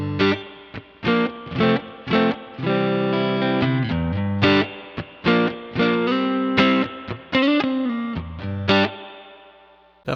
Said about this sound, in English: now let's throw a little bit of reverb on here